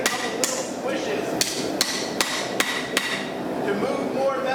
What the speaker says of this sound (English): so that all those hammer strikes are supported against something solid